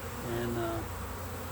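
A honey bee swarm buzzes around a vacuum exhaust in a steady, close, continuous drone, with a brief word spoken over it.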